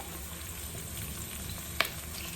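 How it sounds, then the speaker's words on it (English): Onions and green onions dropping into a hot skillet for Caribbean salt fish, giving a steady close sizzle throughout with one brief sharp clatter near the end. "Now to my skillet, I'm going to go ahead and add my onions."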